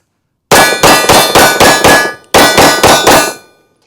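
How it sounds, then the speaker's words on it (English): Rapid bursts of shots from a small Ruger Max-9 9mm micro pistol, six quick loud cracks, a brief pause, then four more, each ringing with a sharp metallic edge; no voices. "let's do some fast shooting here with this little bitty gun here."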